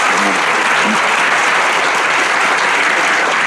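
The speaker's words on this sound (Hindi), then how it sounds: "आप भी एक बार जोर से ताली बजाते" An audience claps loudly and continuously for a UPSC exam topper, a dense, even wash of applause that holds steady throughout.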